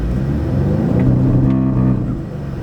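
A 2018 Audi S3 or 2018 Ford Focus ST Mountune Edition launches in launch control mode, its engine revving loudly and rising in pitch before easing off near the end.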